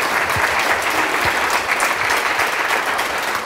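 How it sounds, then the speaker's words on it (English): An audience in a hall gives dense, sustained applause after a skit, steady and loud with no voices over it. "let's have a round of applause for the last skit"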